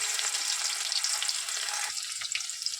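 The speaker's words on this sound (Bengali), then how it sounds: "এবার দেখুন পেঁয়াজ কুচানো দিলাম।" Chopped onion sizzles in hot oil with black cumin seeds while a fish curry is started, a close, steady frying crackle with a brief stir near the end.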